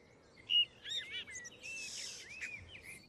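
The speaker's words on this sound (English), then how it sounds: "the blackbird in our garden was being prompted to sing more vigorously because it realised it had competition" A blackbird sings in a garden, a series of short warbled and whistled phrases at moderate distance, with other faint chirps and a soft hiss of background noise.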